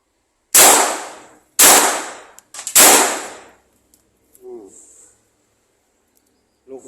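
Three sharp, loud gunshot cracks in quick succession from a Retay Mod 92 pistol firing blanks, followed by faint metallic clicks and a brief murmur of voice.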